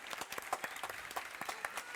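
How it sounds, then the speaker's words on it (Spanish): An audience at a bread-making class during Festival Peperina 2023 in Alta Gracia applauds, a fairly soft but dense, continuous patter of many hands clapping with no break. "Se merecen este aplauso, por supuesto"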